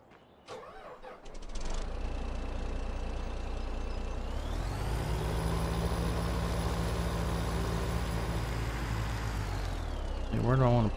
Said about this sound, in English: Let's get this log truck moved back a bit.